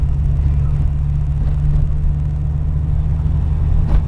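A car running a standalone ECU during fuel tuning drives under varying engine load, heard from inside as a loud, steady low engine drone and rumble that hardly changes across the stretch.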